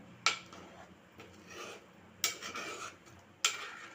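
Pomfret fish pieces and heads stirred into a Kokani-style curry in a pot, with three sharp metal utensil clinks against the pot between soft scraping and mixing sounds.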